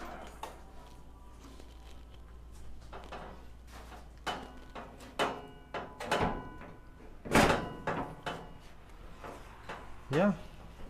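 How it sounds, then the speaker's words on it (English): A VW bus (Kombi) door under restoration is swung shut against a newly fitted seat pedestal, giving a series of close, solid metallic thunks and clunks with one loud slam near the end over a low steady hum. "let's see how the door closes with the seat pedestal in there"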